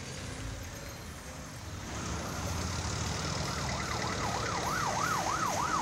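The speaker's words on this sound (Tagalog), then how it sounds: "madungog na ang wangwang sa police patrol" A police patrol car's siren wails in city traffic on CM Recto Avenue in Cagayan de Oro, rising from faint to a clear, repeated up-and-down sweep over a rumbling street background.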